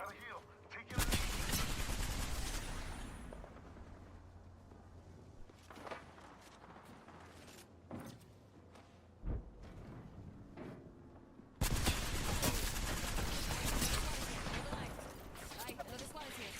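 Bursts of video game gunfire from enemies shooting at the player in a squad-based shooter, loud volleys at the start and again near the end, with quieter shots and footsteps between and players talking over it.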